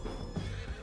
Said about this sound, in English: E era uma vez um cavalo.